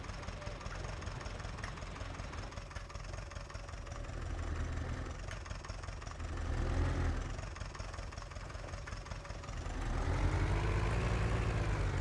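A tractor engine ploughing a hillside meadow with a two-furrow plough, a steady heavy diesel drone that swells and eases as it works up and down the slope, with people talking over it.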